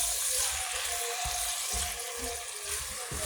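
Onions sizzle in hot oil in a pan for Libyan couscous, a steady close hiss with occasional soft low bumps, and no voices.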